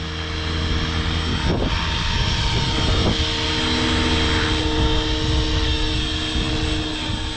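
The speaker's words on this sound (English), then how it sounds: "flybarred helicopter which has a linear throttle curve set up on it" RC flybarred helicopter with a linear throttle curve and throttle governor flying in a 500-size setup, giving a loud, steady rotor and engine whine with layered tonal hum throughout, no voices.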